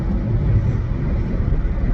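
A truck rolling along Interstate 81 in Virginia, its steady low road rumble and engine drone filling the cabin continuously and evenly, with no talk over it.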